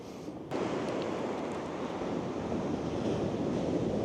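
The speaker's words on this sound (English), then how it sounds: "that surf's pounding the line" Surf pounds a beach during Christmas fishing, a constant loud wash of breaking waves that swells suddenly after a quiet half-second and runs on mixed with wind buffeting the microphone.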